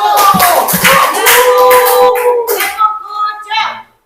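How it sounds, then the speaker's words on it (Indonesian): Classroom group doing a rhythmic clap cheer, sharp hand claps in a patterned sequence mixed with students' voices and chanting, fading out at the end. "Kita beri tepuk pucuk kelompok 1."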